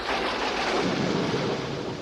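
Thunderstorm sound effect: a steady, dense rumbling roar with rain-like hiss, loud and continuous throughout, with no voices over it.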